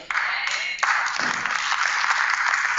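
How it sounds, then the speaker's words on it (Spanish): A church congregation applauds, a steady wash of clapping that carries through the whole stretch with a brief murmur of voices beneath. "Ese aplauso es para Él."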